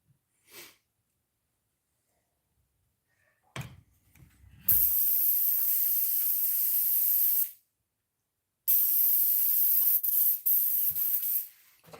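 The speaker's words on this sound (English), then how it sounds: "Get the airbrush cleaned off." An airbrush being cleaned out sprays in two loud bursts of sharp hiss, each held for a few seconds, with a gap between them and a few soft clicks and rustles before the first burst.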